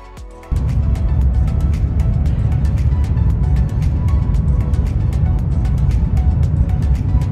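A bus travels at night with a steady loud rumble of engine and road noise, joined by a rapid series of sharp ticking clicks and rattles repeating throughout after a quieter opening half-second.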